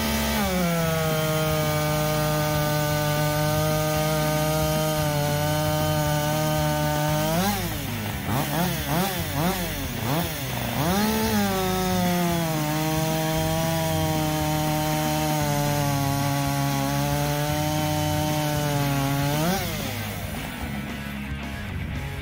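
A chainsaw fitted with a Husqvarna C83 X-Cut chain cuts through wood, its engine holding a loud, steady high-revving whine that bogs and wavers mid-cut before settling again, then easing toward the end.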